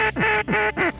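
Ducks quack three times in a steady rhythm during a waterfowl hunt at Montevideo, each call loud and close with short gaps between, and no talking.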